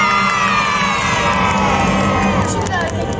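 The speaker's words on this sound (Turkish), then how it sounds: "Önce kızlar hey! Çığlık çığlığa hey istiyorum sizden." A large concert crowd of girls screams a sustained shout at a show, a loud, continuous wall of high-pitched yelling and cheering close around the listener.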